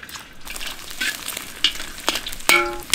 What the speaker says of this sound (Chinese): 锅里边做了油，把那个猪肉粒先煸一下。